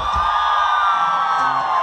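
A crowd at a concert for a Mother's Day celebration lets out a loud, sustained shout and whoop, a dense continuous roar of many voices at full volume.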